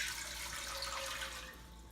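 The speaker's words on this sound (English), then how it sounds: "First, we are going to put in our 3 cups of water." Three cups of water are poured for pickle brine, a steady splashing rush of liquid that tapers slightly toward the end, heard alone.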